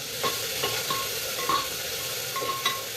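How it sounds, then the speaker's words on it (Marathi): Onion frying in hot oil on a high gas flame for chicken dum biryani, a steady bright sizzle with occasional clinks and scrapes of a stirring utensil against the pan. "तेल टाकलेलं तेलात कांदा चांगला परतून घ्यायचा"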